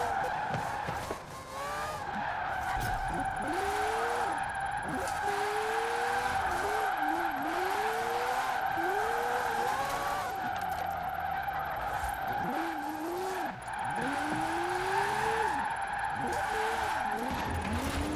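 Mazda Cosmo with a rotary engine in Forza Horizon 4, its loud, sustained engine drone overlaid with repeated tyre skids and squeals as the car slides through corners, continuous and close throughout.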